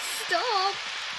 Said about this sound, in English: It's raining less, but now it's spookier